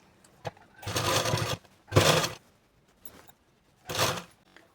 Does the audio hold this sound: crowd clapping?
no